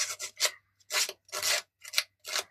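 Rough rasping strokes on a craft surface for a belly band, each scrape a broad burst, six or seven in quick irregular succession, close and fairly loud with short gaps between.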